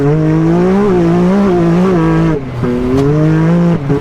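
A car engine roars loudly with its exhaust cutout open, a steady droning rumble that dips briefly twice before surging back, continuous and close.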